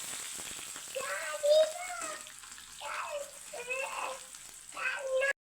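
Chopped onions frying in oil in a pan with bay leaves and cardamom, a soft sizzle heard under intermittent speech and kitchen sounds, cutting off abruptly at the end.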